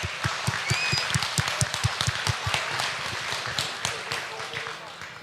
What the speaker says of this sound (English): We can have a round of applause for them.